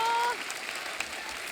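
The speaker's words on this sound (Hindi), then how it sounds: "एक बार जोरदार तालियां" A studio audience on a Kapil Sharma comedy talk show breaks into a short, bright burst of applause lasting under two seconds, with a voice heard at the start.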